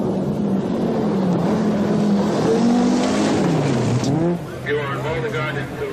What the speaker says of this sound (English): Still, Valdegaard powers the turbocharged Quattro through the dusty gravel stages to maintain his lead